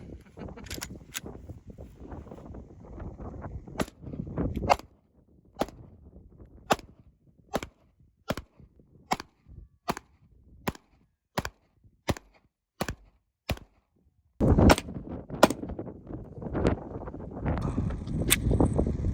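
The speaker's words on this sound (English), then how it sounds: "Here's the Tone Bone shooting the new RXM by Ruger." A Ruger RXM pistol fires about sixteen sharp, loud shots at a steady, fairly quick pace, each crack standing clear against quiet outdoor background, followed by a louder burst of rough noise near the end.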